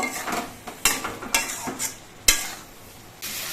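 Boiled potatoes go into spices frying in oil in a pan and are stirred, with several sharp scrapes and clanks of a spoon against the pan over a soft, low sizzle.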